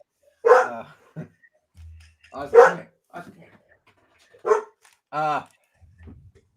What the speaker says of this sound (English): That's my dog. It's my dog's birthday.